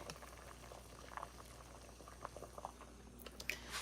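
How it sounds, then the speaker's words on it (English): A pot of water boils on the stove during cooking. The bubbling and popping is faint and continuous, with small irregular bursts and no voices. "I got that one done, and it's already boiling."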